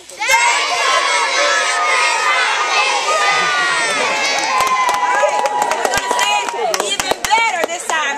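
Crowd of children at an Earth Day event cheering together in unison, a loud sustained burst of high shouts and yells with scattered claps, close and dense throughout.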